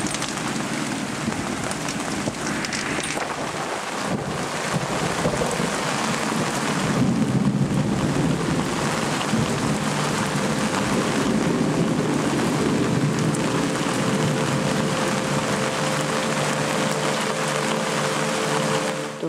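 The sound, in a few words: thunderstorm with heavy rain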